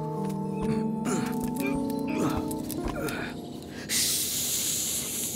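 A voice imitates a snake's hiss, a drawn-out breathy hissing that swells louder toward the end, with a musical background running underneath.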